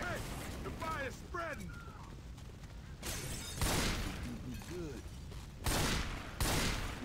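Bursts of gunfire in the Left 4 Dead 2 game, a heavy blast near the three-second mark and another just before six seconds, under steady talk and chirpy game sounds.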